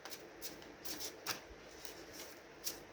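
Muse tarot cards being shuffled by hand, soft papery riffles and brushing bursts recurring unevenly, close and fairly quiet with no talking.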